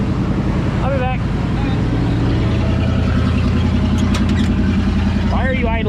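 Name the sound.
van engine idling high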